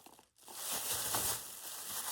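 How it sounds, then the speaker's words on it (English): A plastic bag crinkles and rustles continuously for about two seconds as it is pulled away, close and moderately loud after a brief pause. "I'm going to get rid of that plastic bag"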